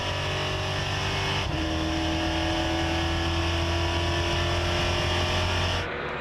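Onboard engine drone from Max Papis's NASCAR Euro Series stock car at Monza, a loud steady roar with a shift in pitch partway through, continuous and close, no talk.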